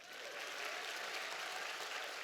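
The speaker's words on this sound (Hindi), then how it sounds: "इस पे नहीं बजाई ताली आपने?" Audience applause fills a yoga session on treating women's health problems, a steady dense wash of many hands clapping at even volume throughout, with no voices on top.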